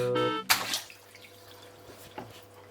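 A LEGO Ninjago mech set dropped into water, giving a single sharp splash followed by soft lapping and a couple of small drips, close and fairly quiet.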